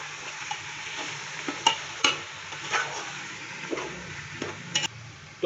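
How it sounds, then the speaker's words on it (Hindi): Beef with chopped tomatoes, salt and spices is stir-fried in a pot for a beef matar pulao. A steady, soft sizzle runs under repeated scraping clinks as a spoon stirs the mixture. "तो अभी हम इसको मज़ीद 2 से 3 मिनट अच्छे से भून लेंगे"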